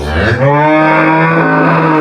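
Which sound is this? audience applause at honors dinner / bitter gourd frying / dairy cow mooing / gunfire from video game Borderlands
dairy cow mooing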